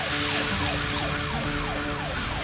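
A cartoon police car siren wails in repeated rising and falling sweeps, loud and close, filling the whole stretch over a faint engine rumble.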